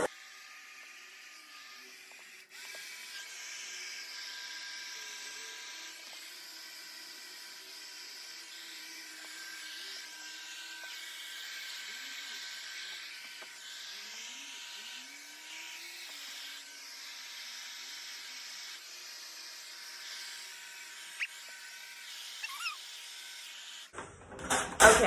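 Hair dryer on low speed and low heat being used to style short wavy hair: a soft, steady whirring airflow running continuously at moderate volume, with faint handling clicks toward the end.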